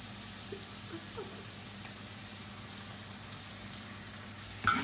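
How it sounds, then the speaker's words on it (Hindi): Chicken masala simmers in a pan after water is added, giving a soft, steady bubbling and faint sizzle with no talking. "ये पक भी चुका है, मगर हम इसमें थोड़ा सा पानी डालेंगे ताकि ये सारा मसाला इसके साथ लग जाए।"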